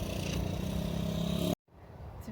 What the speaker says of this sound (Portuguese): andaram com a moto aqui na minha frente, ia fazer um barulho muito forte